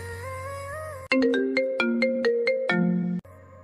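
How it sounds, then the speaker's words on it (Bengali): A mobile phone ringtone plays loudly and close, a bright melodic tune of repeated electronic notes that starts abruptly after a soft background track and cuts off suddenly, with no talking. "তখনই অয়নীর ফোনটা বেজে উঠেছে"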